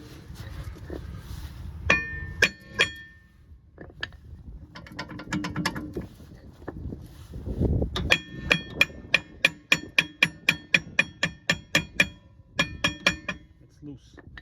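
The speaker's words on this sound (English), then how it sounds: "After hammering it here, lots of rust came off." Hammer striking the rusted wheel rotor on a Toyota Venza, sharp metallic clanks coming in scattered bursts and then a fast, regular run of close, ringing blows, with some talking underneath.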